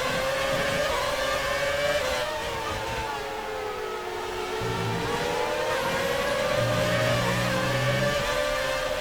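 A 2006 Renault Formula One car in the F1 2019 racing game at Spa, Belgium, its high-pitched engine whine rising and falling steadily through the corners, loud and continuous.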